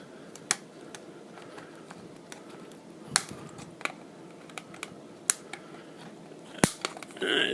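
Component pins on a circuit board are snipped with cutters, giving sharp, sparse clicks spaced a second or so apart against a quiet background, with one louder snap near the end.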